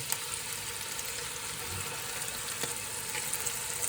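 Sauce going into a hot pan of scrambled egg for a Thai dish, giving a steady, fairly quiet sizzle and frying hiss with a couple of faint clicks.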